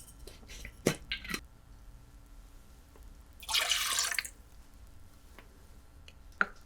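Sweet vermouth is poured into a Scotch cocktail in a quiet bar setting: a short, close liquid splash lasting about a second, framed by a few soft clinks and drips.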